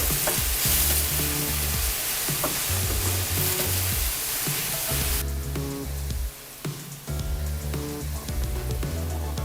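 Bell pepper, celery and sliced garlic sizzle loudly in a pan while being stirred, a continuous close frying hiss with scraping stir strokes throughout, softening after midway, with no voices.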